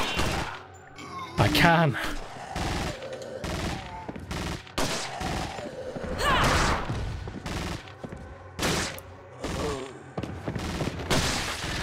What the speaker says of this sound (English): Can I shoot the crossbow bolt out of the sky?